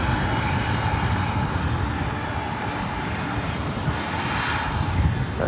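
A Delta airliner, a heavy jet at LAX, roars past as a loud, steady, broadband rumble that holds for several seconds.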